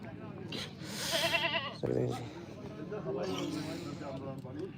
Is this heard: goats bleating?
yes